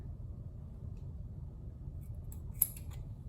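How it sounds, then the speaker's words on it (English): Scissors snip the extra strings off a tied pork tenderloin roast: a few short, crisp cuts near the end over a low, steady background hum, with no talking. "So I'm gonna cut my extra strings off here."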